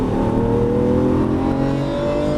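A Lamborghini Aventador LP700-4 accelerates downhill on a track, its engine a loud, close, sustained roar with a rising pitch over a couple of seconds, and nobody speaks.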